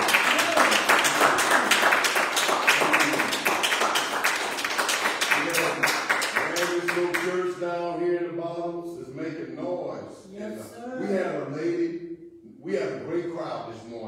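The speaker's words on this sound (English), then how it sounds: "let's give the Lord a clap on it." A church congregation bursts into loud, dense clapping for the Lord at a Sunday evening service, the applause fading after several seconds as voices and talk take over.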